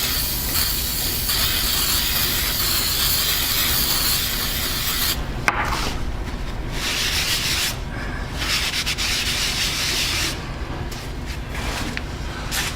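A hone stone is rubbed flat during resurfacing, giving a continuous, close, gritty scraping and grinding with no talk. The strokes shift in intensity and pause briefly now and then.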